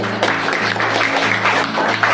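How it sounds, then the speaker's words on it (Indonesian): Classroom of students applauding together, a brief dense burst of clapping heard close and loud over a steady low hum. "Tepuk tangan."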